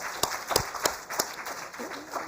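Audience at an award ceremony applauding, a run of sharp separate claps over a soft crowd clatter, moderately faint and steady.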